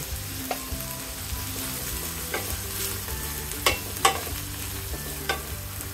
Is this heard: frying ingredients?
yes